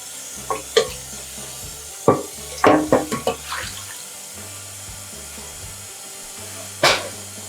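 Tap water runs over chicken bones being rinsed in a pot for pho broth, with short splashing bursts, clinks and a steady low hum throughout, no talking.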